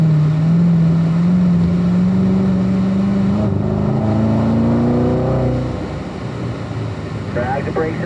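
A race car engine drones and rises in pitch as it accelerates on a track, loud and close, then eases off under braking before a brief higher squeal near the end.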